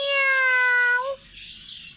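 A cat gives one loud, clear, drawn-out meow lasting about a second, close up, followed by quiet background.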